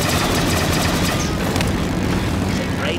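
A helicopter in a video game streamed from an Oculus Quest gives a loud, continuous rotor and engine drone that holds steady throughout, close and dominant.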